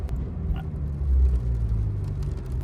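A Porsche 992 Dakar ploughs through deep snow, its engine a heavy continuous low rumble that swells slightly midway, with soft crunching texture on top and no talking.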